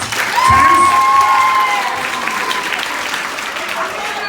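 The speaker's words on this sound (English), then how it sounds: "Give them a round of applause." Audience applause with some cheering for a middle school drum line, a dense wash of clapping that swells early and then holds steady at a slightly lower level.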